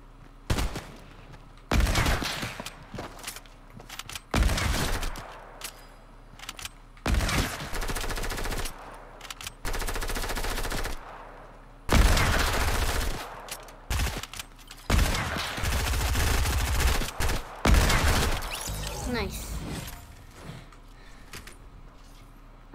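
Bursts of automatic gunfire in a Fortnite duos match, loud repeated volleys of several seconds each separated by short pauses, with some sharper single cracks mixed among the sustained fire.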